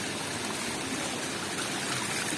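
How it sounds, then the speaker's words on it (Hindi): Cold mountain stream water flows steadily on a hill trail at Pachmarhi, a continuous close rushing and trickling wash with no pauses and no voices. "पहाड़ों से ये पानी जो आ रहा है इतना ठंडा है"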